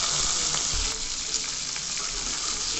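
Potatoes and flat beans hit hot oil tempered with black cumin seeds, giving a loud, continuous sizzle and crackle that stays steady with no talking.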